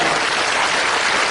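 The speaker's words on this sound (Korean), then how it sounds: "박수 한번 해주시기 바랍니다." A church congregation at an Easter dawn service in Incheon breaks into a short burst of dense, loud clapping that fills the room, with no voices over it.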